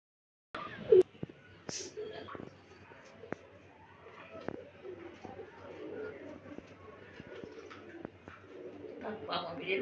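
Domestic pigeons, including a cock and its young, coo softly at close range amid faint background rustling on a rainy day.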